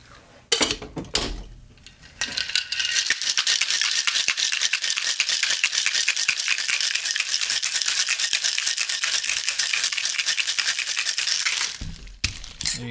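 Ice rattles hard inside a cocktail shaker while a Toblerone cocktail is mixed, a loud rapid churning that runs for about ten seconds after a few opening clinks, then stops with a final knock.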